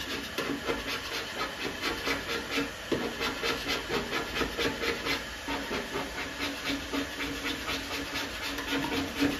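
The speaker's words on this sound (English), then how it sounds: "So that's two lots of filler and two bits of paint just by the heat gun." Heat gun softening paint and filler while they are scraped off a VW Karmann Ghia wing: a steady close hiss with rapid, repeated rasping scrape strokes running throughout.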